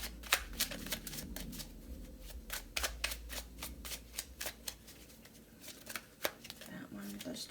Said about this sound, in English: Let's get three cards from this deck for pile 2.